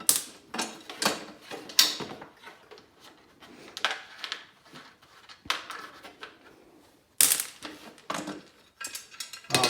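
Bolts come off the exhaust deflector of a Polaris Axys 600R snowmobile, with close, irregular metallic clicks, clinks and tool rattles in uneven bursts.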